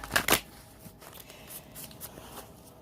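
A deck of tarot cards is shuffled up close, starting with two quick riffling bursts, followed by softer intermittent card handling, with no talk.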